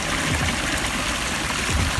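Water from a backyard creek pours steadily out of a pipe into a stream, a loud, close, continuous rushing and splashing with no pauses.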